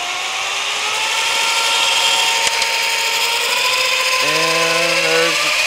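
A Hardinge HLVH 11 x 18 inch tool room precision lathe with a 5C collet closer runs its spindle at high speed, a steady loud whine with layered tones that shift upward near the end.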